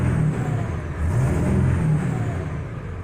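A Ford 7.3 diesel engine revs up past 2,500 RPM, a loud, close, sustained low rumble that rises and holds steady with no talking.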